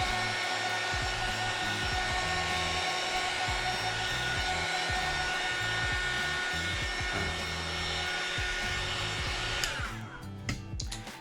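Heat gun blowing hot air to warm polish on police cadet boots: a steady, loud whirring hum that runs unbroken, then clatters and shifts near the end as it is moved, with no talk.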